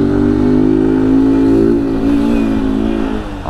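Loud, steady idle of a Honda Fan 160 motorcycle running its original exhaust with no filter, a low burbling drone close up that holds roughly constant, dipping slightly near the end.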